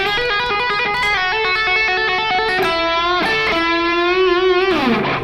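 Electric guitar playing the live version of a solo lick, a fast run of bright, sustained distorted notes that climbs and bends, loud and close with no talking.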